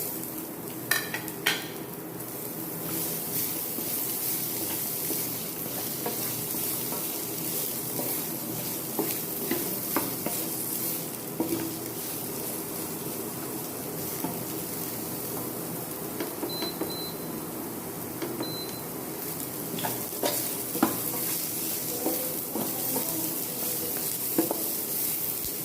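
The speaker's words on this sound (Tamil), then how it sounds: "அதில் நம்ம கட் பண்ணி வச்சுருக்கிற முடவாட்டுக்கால், பூண்டு, வெங்காயம் எல்லாத்தையும் போட்டு நல்லா வதக்கிற வேண்டியதுதான்" Mudavattukaal, garlic and onion sautéing in a pan, with a steady soft sizzle and repeated stirring scrapes and utensil clinks throughout, no voices.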